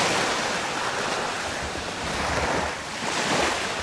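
Ocean surf rolls onto a beach in steady, continuous wash, swelling slightly toward the end, with a little wind rumble on the microphone and no voices.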